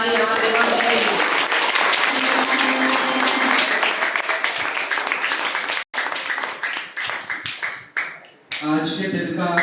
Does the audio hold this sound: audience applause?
yes